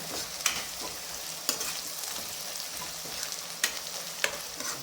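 A rice mixture with citron and ground spice powder frying in a pan, a constant close sizzle broken by a few sharp spoon scrapes and knocks as it is stirred.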